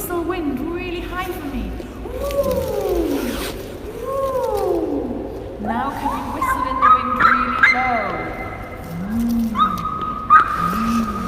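Voices imitate a high whistling wind with rising and falling whooshing whistles, swooping tones repeated over and over, some slow and gentle, others sharper, mixed with talking in a small group.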